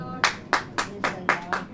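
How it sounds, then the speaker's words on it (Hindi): Church congregation clapping in time during a sermon, six sharp, evenly spaced claps in a steady rhythm, fairly close and clear with no talk over them. "ताली बजाओ"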